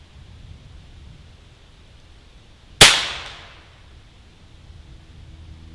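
One sharp crack from an FX Impact M3 air rifle firing, loud and close, with a short fading tail against quiet background.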